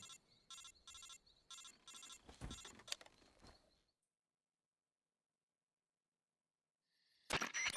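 A phone rings in Metal Gear Solid 3, a repeated electronic ringtone in regular bursts at first, then a pause into near silence before a loud, bright burst returns at the end.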